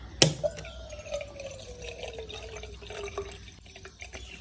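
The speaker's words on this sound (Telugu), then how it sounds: "బటన్ నొక్కితేనే వస్తున్నాయి వాటర్" Hot water runs from a water heater filter tap when its button is pressed, a quiet trickling, dripping flow with a sharp click at the start, close by and without voices.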